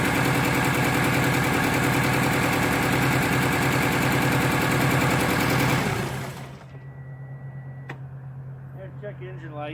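A 1990 Eagle Talon TSI engine, restarted after sitting 19 years, runs with a loud rough rattling roar that suddenly drops to a quieter low idle hum partway through, with a voice briefly heard near the end.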